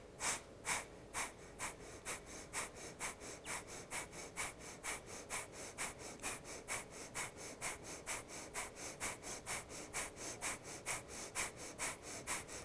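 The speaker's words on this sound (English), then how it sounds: "Sharp, even, rhythmic inhales, exhales from the belly out through the nose." Breath of fire in a yoga session: sharp, even nasal exhales pumped from the belly in a fast steady rhythm, about two per second, close and clear with nothing else over them.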